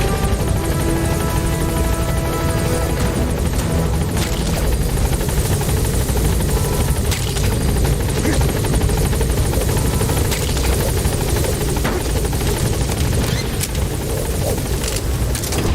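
Helicopter idling at a landing zone in Metal Gear Solid V: The Phantom Pain, a steady loud rotor drone and engine whine filling the whole stretch with no talk.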